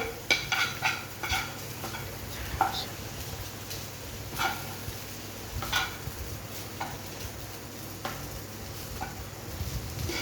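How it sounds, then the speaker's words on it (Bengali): Egg chicken chow mixture is stirred in a frying pan, with a soft, continuous sizzle under repeated scraping and tapping strokes of a spatula at an uneven rhythm, close and fairly quiet. "এবার একটু ভালো করে মিক্সড করে"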